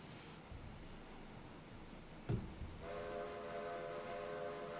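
A train runs along railroad tracks, a low steady rumble that is joined by a sharp clank and then a long, sustained horn blast, with no voices.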